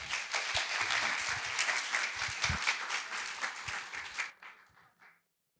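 Audience applause at a stage event for green pitch presentations, a dense sustained burst of clapping that fades out near the end into quiet.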